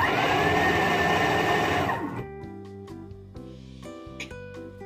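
A kitchen mixer running on turbo while mixing flour in a bowl: a loud, dense whirring for about two seconds, then it cuts off, leaving quieter clinks and knocks.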